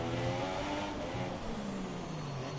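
Formula 1 car in a racing video game slowing into the pits at the Singapore Grand Prix, a steady mid-pitched engine drone with gliding gear-change tones, continuous and fairly close.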